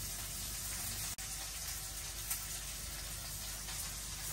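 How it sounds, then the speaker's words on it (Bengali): Fish fries in oil with chopped onion, giving a steady, even sizzle that stays fairly quiet and continuous throughout, with no talking over it. "এই যে মাছটি সুন্দর করে লাল করে ভেজে নিচ্ছি, মশলা করে একটু"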